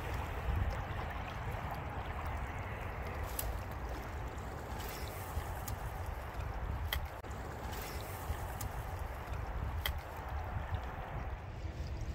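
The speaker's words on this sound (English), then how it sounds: "The water is just moving so quickly." Fast-flowing river water rushes past a fishing spot in a continuous broadband wash, steady and moderately distant, with a few faint clicks and no voices.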